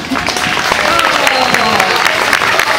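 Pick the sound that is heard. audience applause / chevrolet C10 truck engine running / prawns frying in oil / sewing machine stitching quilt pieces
audience applause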